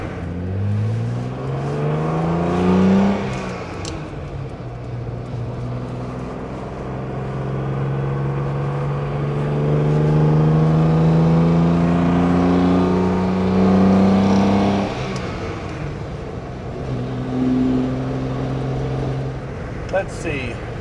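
A 1965 Maserati Sebring 3500 GTI Series 1 by Vignale, warmed up and driving on open roads, its engine climbing through rising revs between gear changes, loud and close from inside the cabin, with talk over it at times.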